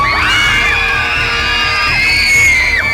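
A girl screams at full force in a scream contest, one sustained, very loud, piercing shriek that wavers in pitch and lasts nearly three seconds, close and dominating everything else.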